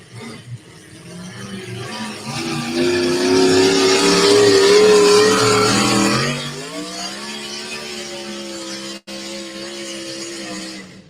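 A pulling truck's engine revs hard at a truck pull, swelling into a loud sustained roar for several seconds, then dropping to a lower rumbling idle with a brief cutout near the end.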